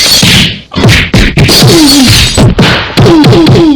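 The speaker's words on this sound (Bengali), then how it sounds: "বাঘ এক ধাক্কায় ফেলে দিল দ্বিতীয় ছাগলের বাড়ি।" A cartoon tiger knocks down a goat's house in one shove: a loud run of sharp whacks and crashing thuds, close and forceful, with brief gaps between hits.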